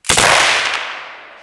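A vz. 59 machine gun fires outdoors, one sharp loud report that starts abruptly and rings off in a long decaying echo over about a second, with no speech.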